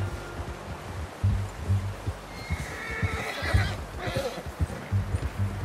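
A horse in the Red Dead Redemption 2 video game whinnies loudly with a breathy snort, set over soft clip-clop hoofbeats and rustling outdoor ambience.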